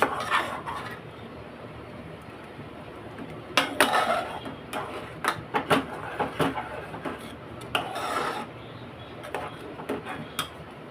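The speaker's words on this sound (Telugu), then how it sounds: "చింతపండు గుజ్జు పెట్టుకుంటున్నాను. కలుపుతున్నానండి." Tamarind pulp is stirred in a cooking pot, a spoon clinking and scraping against the metal in irregular bursts over quiet background hiss.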